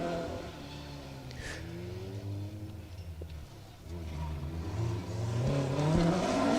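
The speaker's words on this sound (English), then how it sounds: "Peter Hinton and Lewis Sim in a D2 category Ford Escort. Going well" A D2 category Ford Escort rally car drives a stage of the Woodpecker Stages Rally, its engine revving and shifting in rising and falling pulls, with the revs climbing loudly toward the end. Faint talk sits underneath.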